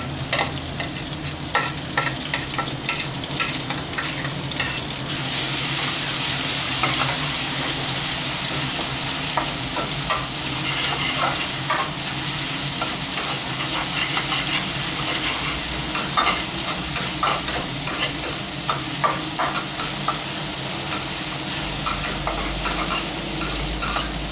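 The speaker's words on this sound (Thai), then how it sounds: "ตำพริกกระเทียมลงไปผัดนะครับ ให้หอมก่อน" Pounded chili and garlic hit hot oil in a pan for a spicy catfish stir-fry and are stirred constantly. A loud, continuous frying hiss rises under busy, rapid stirring scrapes, with no voices.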